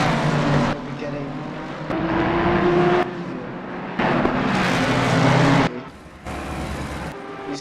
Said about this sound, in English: that V8 engine, really loud